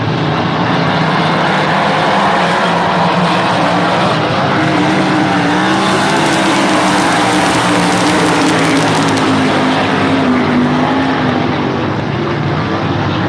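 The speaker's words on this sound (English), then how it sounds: "This race will start at the back straightaway cone located halfway down the backstretch." Race cars starting a race on a track with a back straightaway, a loud sustained roar of several engines droning together and rising slightly in pitch, continuous throughout.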